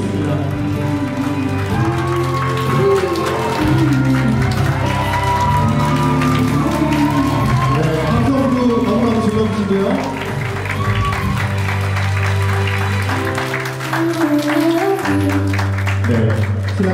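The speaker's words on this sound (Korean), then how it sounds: "여러분 더 큰 박수 부탁드리겠습니다." Wedding guests applaud the entering bride and groom at a ceremony in a grand ballroom, steady dense clapping running throughout under loud background music with melody, with a host's voice over it.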